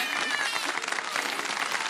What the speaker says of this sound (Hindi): तालियां तो बजा दें एक बार